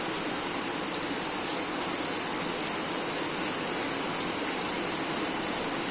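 Heavy rain pours outside in a dense, unbroken hiss that stays steady and even throughout, with no other sounds standing out.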